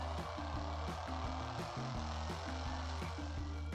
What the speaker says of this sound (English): it plays sound that is similar to a real airplane engine